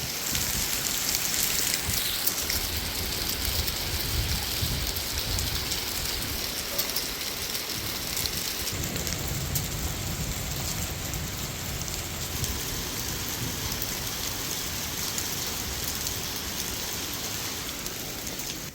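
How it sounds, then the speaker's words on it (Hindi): Steady heavy rain mixed with falling hail pours down with a dense, hissing wash of drops pelting hard surfaces, continuous throughout with no voices. "पहले तो बारिश लग रही थी, अब ओले गिरने लग गए।"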